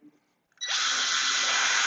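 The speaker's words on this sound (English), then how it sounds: "drill halfway through" A power drill boring a pilot hole in wood for a small box build, starting abruptly after a quiet moment and holding a steady, loud high-pitched whine.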